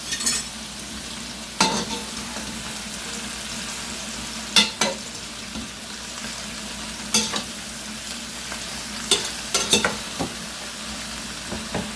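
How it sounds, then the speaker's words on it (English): Chopped vegetables tossed into a hot pot for an Italian pasta with sausage, sizzling with a steady hiss broken by occasional sharp clatters and scrapes of stirring, with no talking. "We're gonna put our vegetables all in this pot."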